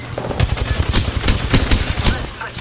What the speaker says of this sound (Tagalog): May bumabaril sa taas natin.